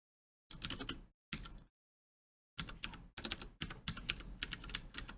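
Fingers type on a computer keyboard in quick, close bursts of clicking keys separated by short silent pauses, with the final stretch a longer continuous run.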